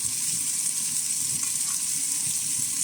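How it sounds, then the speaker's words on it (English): Porterhouse steak sizzles steadily in a pan as garlic butter is basted over it, a continuous close hiss and crackle with no pauses. "Start to baste the steak with this lovely butter garlic solution that we have here."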